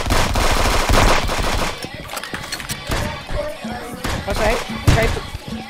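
Rapid gunfire in a multiplayer shooter video game, repeated close, punchy blasts in quick clusters with thuds between, loud and busy, while players talk over it.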